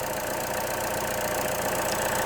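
A car engine runs steadily during a battery and charging system test, a loud continuous idle-like drone with no talk over it.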